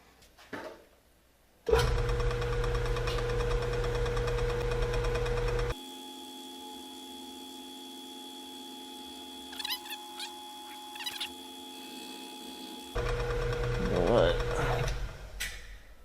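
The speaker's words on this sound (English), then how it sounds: "I'm going to feed the table out to the depth of the cut that I want, and then I'm going to feed across. This is a 3/8 diameter carbide chamfer mill." A milling machine cuts metal with a 3/8-inch carbide chamfer mill, a steady loud whirring hum with a sharp start, a quieter tonal stretch in the middle, then louder cutting again, with a few faint clicks and no talk.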